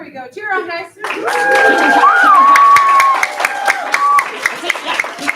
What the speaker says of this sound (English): Cheer on, guys.